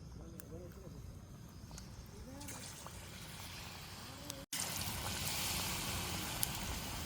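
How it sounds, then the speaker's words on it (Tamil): Chana dal bonda batter frying in hot oil gives a steady, close, broadband sizzle that runs throughout and grows a little louder partway, while a voice talks over it. "இங்கே பிரட்டி எடுத்துட்டு எண்ணெயில் போட்டு பொரிக்க போகிறேன்."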